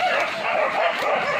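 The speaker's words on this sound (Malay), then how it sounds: "setelah pertarungan anjing kampung sama babi hutan" Village dogs bark and yip excitedly in a chase after a wild boar, a dense overlapping chorus of barking from the pack that stays loud and continuous throughout.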